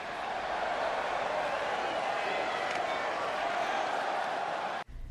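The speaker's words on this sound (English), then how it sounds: "This Vegas crowd really is this loud." Loud, steady roar of an arena crowd in Las Vegas from the wrestling video game WWE 2K20, a dense unbroken wall of cheering that holds for several seconds before cutting out abruptly at the end.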